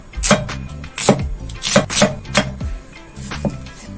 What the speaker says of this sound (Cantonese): 煲湯所以就切大嚿啲